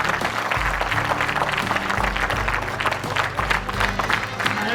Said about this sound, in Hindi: जिससे फलस्वरूप तालियां अपने आप बज गई हैं